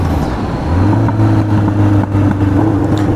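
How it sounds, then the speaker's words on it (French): Kawasaki Zephyr 750 motorcycle exhaust running close and loud, a steady deep throbbing engine note that holds evenly throughout with slight rises in pitch. "Et l'échappement, le bruit est magnifique aussi."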